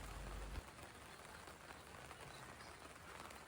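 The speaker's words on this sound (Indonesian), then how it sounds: "Pagi di hari kedua kami disambut dengan rintik-rintik hujan." Light rain patters steadily on a tent flysheet at a campsite in a pine forest, a soft continuous hiss of drops with no voices.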